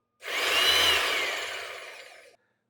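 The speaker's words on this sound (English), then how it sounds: "That was the big demolition hammer, the DH1700." A JCB DH1700 1700W electric demolition hammer, powered from a 13-amp plug, runs briefly unloaded with a loud, dense whirring burst that starts abruptly, holds for about two seconds and cuts off.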